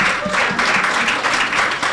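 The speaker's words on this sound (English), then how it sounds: "Ladies and gentlemen, give yourselves a round of applause." Audience members at a business event unveiling a cohort of investees clap for themselves, a dense steady round of applause from many hands filling the room, loud and close for a couple of seconds.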